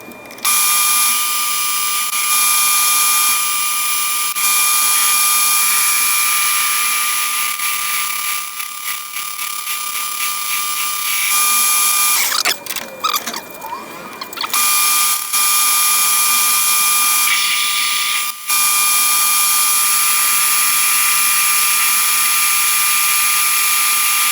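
A metal lathe bores out a vise base with a loud, steady high-pitched whine and mechanical hum. The sound breaks briefly around the middle with scraping and rattling, then the cutting drone carries on to the end.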